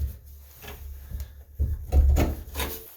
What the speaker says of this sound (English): I just realized there was a secret door here. So I opened it up.